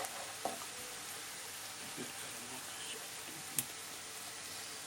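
Onions frying in a pan with a little tomato paste stirred in, a soft steady sizzle with a few faint clicks of a utensil, quiet and close.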